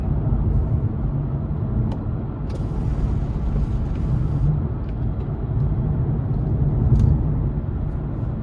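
Ford Mustang driving over a rough, bumpy road, heard from inside as a steady low road rumble and engine drone with occasional knocks and rattles from the uneven surface.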